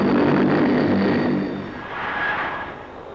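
An RAF aircraft engine roars steadily and loudly, then eases slightly and drones on in a broad continuous wash.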